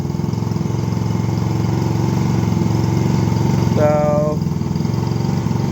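A 50cc Icebear Maddog scooter engine runs steadily at idle in need of carburetor tuning, a continuous close buzzing drone under a brief spoken word.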